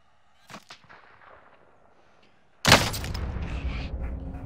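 A sniper rifle shot in the Warzone battle royale game bursts out loud and sudden, ringing on in a sustained roar after quieter scattered clicks and thumps in the seconds before.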